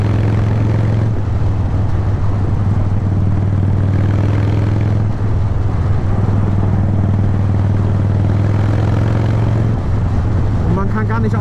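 Loud, continuous engine drone from a Harley-Davidson 1200 Sportster with an old Evo motor and an oversized fork, a deep throbbing rumble that swells and eases as the throttle is worked, with a voice talking over it.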